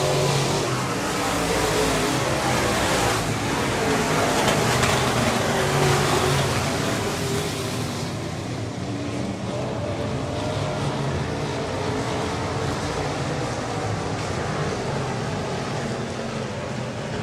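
Race cars roar around Cotton Bowl Speedway on the final lap, a loud, continuous engine drone with rising revs that eases slightly as the pack moves off.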